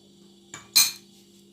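A utensil clinks sharply against a container twice while pork crackling chili paste is stirred, with the second knock louder, in an otherwise quiet room with a faint hum.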